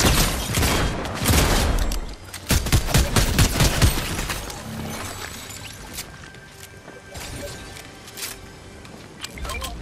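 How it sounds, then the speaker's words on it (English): Gunfire in a Fortnite match, with dense bursts of shots and booms in the first few seconds before thinning to scattered, fainter shots. "someone's taking shots at me."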